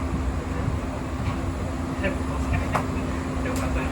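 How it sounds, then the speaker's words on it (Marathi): Low steady rumble and hum of a train pulling out, heard from inside, with a voice speaking over it. "ट्रेन सुटली आपली"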